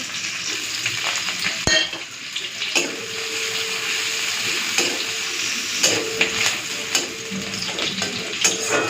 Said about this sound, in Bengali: এখন ওই তেলের মধ্যে পেঁয়াজ আর কাঁচা লঙ্কা ফোড়ন দিয়ে দিচ্ছি